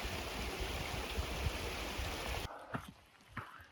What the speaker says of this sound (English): This is the creek that is feeding that waterfall that I showed you down below.